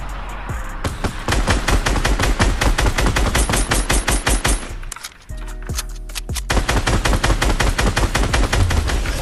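Rapid automatic gunfire in a multiplayer shooter video game, with long loud bursts of fast shots, a brief pause midway, then more sustained firing alone without talk.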